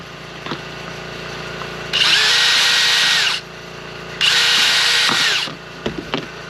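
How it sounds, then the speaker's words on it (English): A power drill boring holes through a leather holster for a Wilson Combat EDC X9, two steady whirring bursts of about a second and a half each, close and loud, with small handling clicks between them. "all I'm going to do is just drill exactly where they are."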